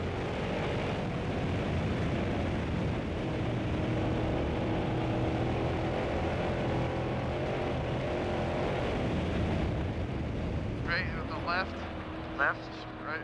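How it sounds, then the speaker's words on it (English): A heavy race truck engine roars loudly and continuously as it hammers down a Baja dirt road, with voices talking over the din before it eases off near the end. "So sure enough, Steve comes hammering down this road."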